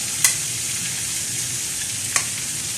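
Chicken giblets, gizzards, liver and heart, frying with onions in a pan, a constant hiss of sizzling broken by two sharp clanks of a utensil against the pan.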